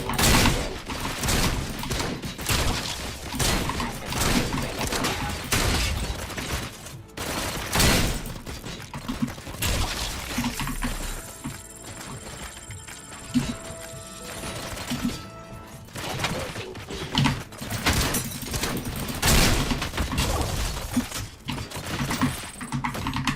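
Shotgun blasts in the RoboCop: Rogue City video game, a long run of loud, sharp reports in irregular bursts mixed with clanks and impacts, with a brief ringing electronic tone partway through.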